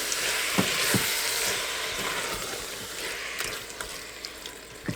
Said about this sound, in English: So I'm just going to add my pint of salsa in.